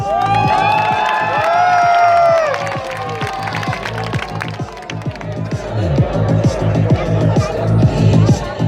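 An audience at a Pakistani bodybuilding club show shouts and whistles, then breaks into loud, sustained rhythmic applause mixed with cheering that carries on to the end.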